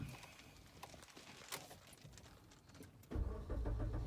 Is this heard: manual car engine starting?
yes